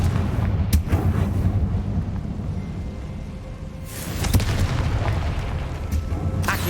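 Confringo fire spell explosions in the Hogwarts Legacy video game, cast against spiders: loud, rumbling booms over dense game noise, with one burst early and a bigger blast about halfway through.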